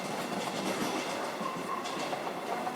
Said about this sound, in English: Do you want to wait for that train or you're right?